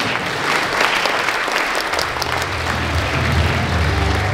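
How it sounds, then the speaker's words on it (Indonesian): An audience at a university event bursts into loud, sustained applause, many hands clapping close and steadily throughout. "Beri tepuk tangan semuanya."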